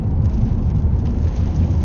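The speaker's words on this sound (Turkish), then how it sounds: "Hava güzel, yağmur güzel biraz fırtına var gözüküyor." Rain and stormy weather on the seashore at Pamucak, a steady broadband wash of rainfall and wind with a deep low rumble, loud and constant throughout, no voices.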